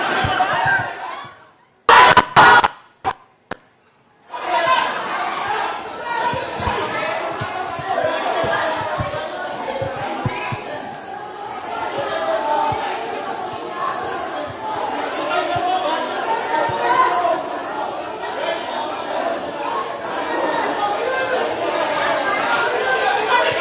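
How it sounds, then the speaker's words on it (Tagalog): Commotion inside the Philippine Senate building, with a crowd of voices chattering and shouting. Loud sharp bursts come near the start, then a sustained, busy din of people talking over one another. "may naririnig tayong sigawan"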